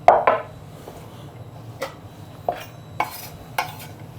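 Butternut squash being cooked in a pan, with a few separate scraping and knocking sounds of utensils against the pan spaced across a quiet kitchen background.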